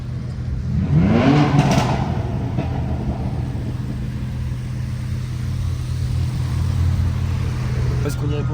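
A car engine revs in a convoy heading to the Nürburgring, a loud rising whine near the start over a constant low rumble of running motors, with people talking throughout.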